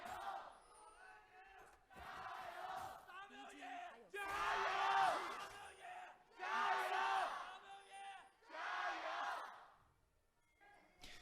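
An esports arena crowd at a 2019 LPL match in Hangzhou roars and chants in loud, swelling waves of massed voices, rising and falling several times before fading.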